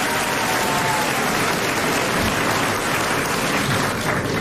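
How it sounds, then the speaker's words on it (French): A 1980 French television studio audience applauds Philippe Bouvard, the clapping dense and continuous, loud and close, with no voices over it. "Philippe Bouvard, qu'on applaudit."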